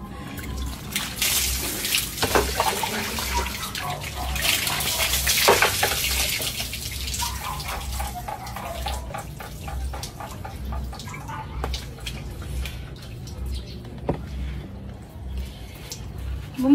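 Cold water splashes and pours during an outdoor bath, with steady trickling and intermittent louder splashes close by, and a voice speaking faintly at times.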